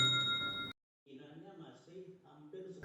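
A bright bell-like ding rings out at the start, followed by a brief silence and then a voice talking.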